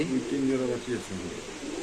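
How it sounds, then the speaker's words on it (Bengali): Soft, low pigeon coos repeat in a short burst at a pigeon market, with voices talking nearby over a busy background. "এখানে আছে কিছু কবুতর ভাই"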